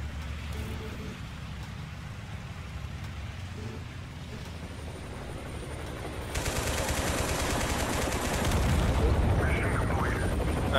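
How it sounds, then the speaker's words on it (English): Helicopter strike gunfire in the video game Total Conflict Resistance: a dense, rattling broadband burst swells in around the midpoint and keeps going loudly over a steady rumbling background. "a helicopter strike, even though it's a very weak one"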